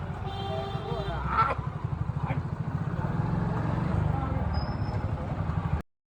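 A motorcycle engine drones steadily while riding through town, close and continuous under loud conversation between the riders, then cuts off abruptly at the end.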